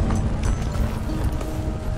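Horse hooves clip-clop in a Western-themed zombie video game, a steady run of soft, close footfalls over continuous game ambience with low rumble and no talk.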